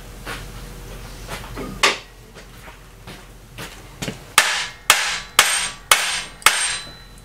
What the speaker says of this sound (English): Let's just see if a bigger hammer don't make it go in there.